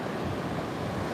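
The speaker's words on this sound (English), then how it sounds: "Look at those little fun little waves." Small ocean waves wash onto a Gold Coast shore, a steady close rush of surf mixed with wind, heard alone for about a second.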